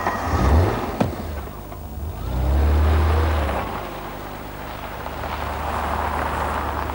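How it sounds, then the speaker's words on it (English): An Alfa Romeo V6 engine's exhaust note growls and swells, rising to a throaty surge before settling into a steady drone, heard close and without talk. "I've always loved the Alfa V6 unit. It's got a lovely exhaust snarl to it"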